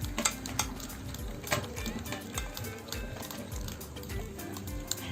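Brown and white sugar being mixed into banana bread batter, a rhythmic series of thick, wet scraping and squishing strokes against a bowl, close up with no talking.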